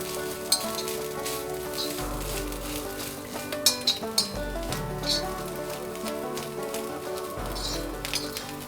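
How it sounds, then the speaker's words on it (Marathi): Masala paste for white peas curry frying in a hot pan, a steady sizzle with repeated clinks and scrapes of a spoon stirring against the metal, close and moderately loud. "हे वाटण आता सतत हलवत राहायचं आहे, कारण हे वाटण आपल्याला करपू द्यायचं नाहीये"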